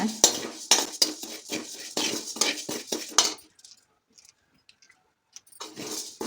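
Urad dal roasting in a pan, stirred with a metal spoon in a quick run of clinking, scraping strokes, then a near-silent pause before the stirring resumes.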